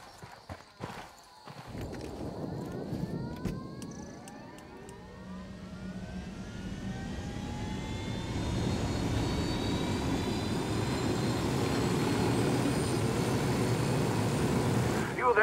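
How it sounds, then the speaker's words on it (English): A helicopter in the video game Ghost Recon Wildlands roars with a steady engine and rotor drone. Its whine rises and swells louder through the second half, with some voice-like sound near the start. "See that chopper over there?"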